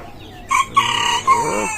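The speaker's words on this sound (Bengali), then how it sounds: "এখনই মুরগি কি সুন্দর ডাক দেয়" A farm rooster crows nearby, one loud, clear call broken into short strained bursts that rise and fall, against a quiet background.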